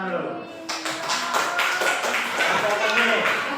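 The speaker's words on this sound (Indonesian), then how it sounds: "kasih tepuk tangan dulu" A school class claps hands together, a busy patter of many small hands rising after a brief pause, with children's voices and chatter mixed in throughout.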